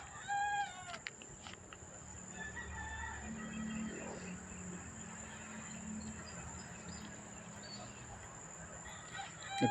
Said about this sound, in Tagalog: Nagtunugan pa yung mga ibon dahil madilim pa.